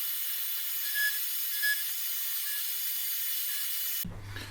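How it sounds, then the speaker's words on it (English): A new 6 mm carbide end mill cuts a slot while modifying metal lathe chuck jaws. It makes a steady machining hum with a sustained tone and a few faint chirps, then stops abruptly near the end. "use the new 6mm carbide end mill to clean up the slot"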